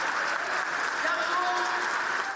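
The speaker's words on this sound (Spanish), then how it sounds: "Palabras que generaron aplausos" Applause in a parliament chamber during a public address, a continuous wash of clapping from a large room, with voices faintly mixed in underneath.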